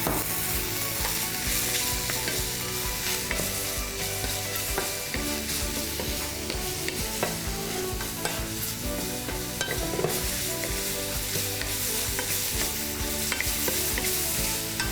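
Mushrooms sizzle in a hot pan for a mushroom sauce while being stirred, a dense, constant frying crackle with scraping stir sounds scattered throughout, close and steady.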